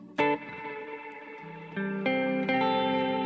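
Clean guitar notes and chords through a BOSS GT1000 with modulation and reverb, close and bright, a few separate picked attacks each ringing out with a lush, wobbling tail.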